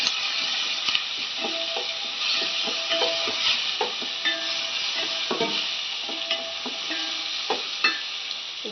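Two tomatoes frying in a pan for chicken curry, a steady close sizzle with scattered clicks of stirring running throughout, no voices over it.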